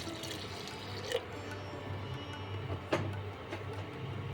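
Water, about two cups, is poured into a pot of cooking urad dal (biuli dal), making a steady close splashing stream with a couple of brief louder clinks.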